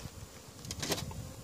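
Honeybees buzz around beehives in an apiary, a faint, close hum with a brief louder pass as one flies near.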